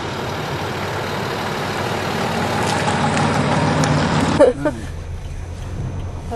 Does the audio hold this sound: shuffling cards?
no